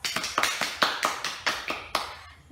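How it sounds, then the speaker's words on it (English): A classroom of students clapping together, a short burst of about ten sharp, fairly regular claps, close and clear with no talking over them. "let us give ourselves a round of applause"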